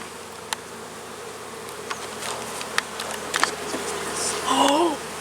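Honey bees buzz around an open hive during a routine inspection, a soft continuous drone punctuated by sharp individual buzzes of bees flying close past, swelling louder near the end.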